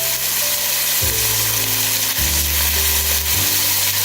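Chopped red onions fry with hamburger beef in a pan on medium heat, a loud continuous sizzle layered over a steady low droning hum that shifts pitch a few times.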